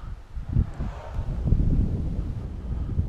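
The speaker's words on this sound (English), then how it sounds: "Wind's coming back up." Wind blows outdoors and buffets the microphone in low, uneven gusts that rise and hold for most of the clip, with no speech.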